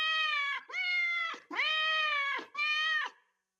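A cat meows four times in a row, loud and close, each cry long and drawn out, with short gaps between them and nothing else in the background.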